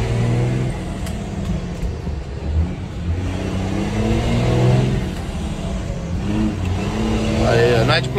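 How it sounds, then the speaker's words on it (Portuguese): A car engine revs and climbs in pitch as the learner accelerates during a driving lesson, with an instructor talking over the steady mid-range engine drone. "Vou acelerar. Acelera."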